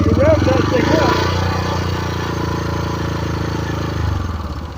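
A Yamaha XT motorcycle single with a lighting coil is revved hard, then settles into a steady, buzzing run. The exhaust note is loud and close, with some clatter.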